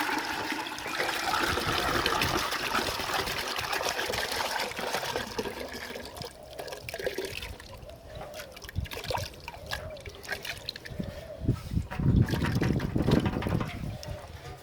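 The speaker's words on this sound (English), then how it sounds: "I'll just give him a flush with a bit of water" Water sloshes and pours through a Honda CB350 motorcycle fuel tank being flushed out during restoration, a steady splashing rush that thins into gurgles and trickles toward the end.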